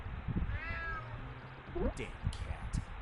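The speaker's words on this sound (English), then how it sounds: "Damn cat." A cat meows in the stealth game UnMetal, a short rising-falling cry heard under ongoing talk and game sounds, near and moderately loud.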